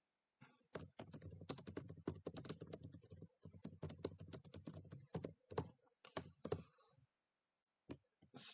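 Someone types on a computer keyboard in quick, irregular bursts of close clicking keystrokes, with a brief pause and a few final taps.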